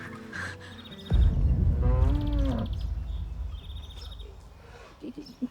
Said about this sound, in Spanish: Se escaparon las vacas de este potrero.